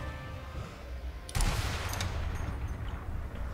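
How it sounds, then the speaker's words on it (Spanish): Gunfire sounds in the World War II sniper video game Sniper Elite V2. A single sharp crack or short burst breaks out of a low ambient background, then trails off in a long, rumbling echo. "me ha parecido oír disparos"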